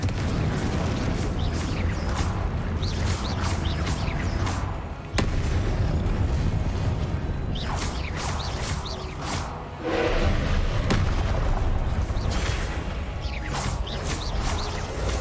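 Confringo blasting spells going off in Hogwarts Legacy, a dense run of booming blasts and crashing impacts with crackling debris, loud and continuous with a brief drop near five and ten seconds.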